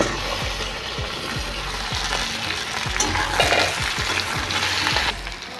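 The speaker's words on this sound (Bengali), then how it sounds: "পেঁয়াজ ভাজা হয়ে গেছে, দিয়ে দেবো কচু আলু। এগুলো ভালো করে ভেজে নেব।" Taro and potato pieces fry in a pan with already-browned onions, giving a continuous soft sizzle broken by regular scraping strokes of a spatula stirring the food.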